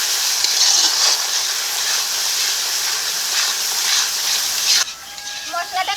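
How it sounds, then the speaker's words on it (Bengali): Masala with chopped tomato, dried red chilli paste, salt and turmeric frying in a pan for chicken dum biryani, giving a loud, steady sizzling hiss that stops abruptly near the end and leaves quieter clatter behind. "টমেটো কুচি এখন মশলাটাকে ভালো করে কষিয়ে"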